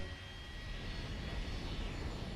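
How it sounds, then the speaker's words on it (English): In the Fate Grand Order video game, the Stormboarder's four Triton engines run at full throttle as a dense, steady jet-like roar, loud and continuous throughout with no voices. "Set all 4 Triton engines to full throttle."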